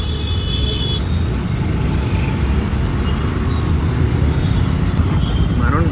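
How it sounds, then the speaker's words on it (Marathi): Loud, steady roar of busy road traffic heard from a bike in the morning rush between Virar and Nalasopara, engines and tyres blending into a continuous near rumble. "ट्रॅफिक"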